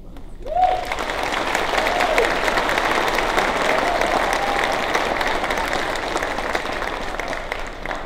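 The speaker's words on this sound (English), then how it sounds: "So please give him a round of applause." An audience at a middle school choir Christmas concert applauds a seventh-grade pianist: a full, steady round of clapping that swells in quickly and holds evenly for several seconds, with a brief tone near the start.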